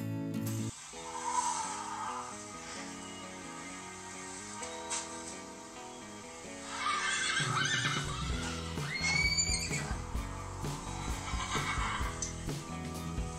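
Cartoon horse whinnies sound out over a toy playset scene, drawn-out neighs mixed with background music and mechanical clicks, with sound moving from quieter early passages to a fuller, louder stretch later.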